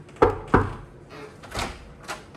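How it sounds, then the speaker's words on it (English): Knocking on a door, two firm close knocks followed by softer thumps and rattles, with no voices. "I'm knocking"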